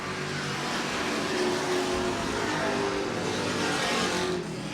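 Race cars circling the track at Lee USA Speedway during a 25-lap makeup feature, a dense continuous engine roar with layered revving as the field passes, loud and steady with no talk.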